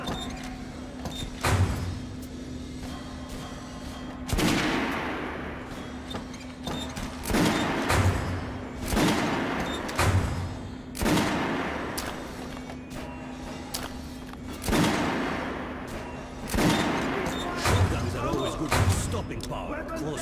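Gunfire on a shooting range in the video game Metro Last Light Redux: about ten sharp, echoing shots spaced several seconds apart over a constant low hum, with voices speaking between them.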